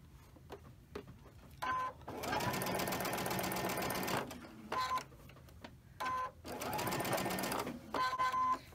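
A sewing machine stitches fabric quilt blocks in several bursts of rapid, rattling needle chatter, the longer runs separated by short pauses filled with brief clicks and handling noises.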